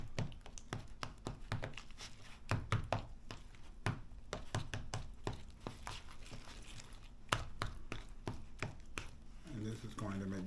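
Cooked egg yolks for deviled egg filling being mashed in a bowl, giving a quick run of close, sharp fork taps and soft squishing clicks, with a faint voice in the background.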